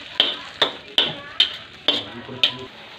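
Chilli chicken mixture with green chilli paste is stirred in a hot pan: six sharp, regular scrapes of a spoon against the metal, each about half a second apart, over a steady close sizzle.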